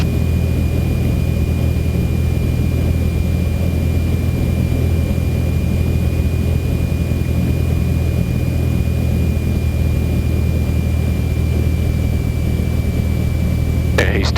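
A Cessna 172's piston engine drones steadily from inside the cockpit during a circuit at Moorabbin, a constant loud hum with a high whine running throughout and a brief click near the end.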